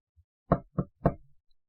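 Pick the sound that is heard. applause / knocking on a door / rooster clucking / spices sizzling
knocking on a door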